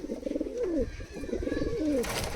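Teddy pigeons coo in a soft, rolling series of throaty calls, two repeated phrases close by at moderate volume with faint background noise.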